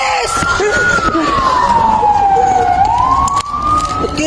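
A police siren wails in one long, loud sweep that dips and rises again, heard close over street background noise and a faint voice.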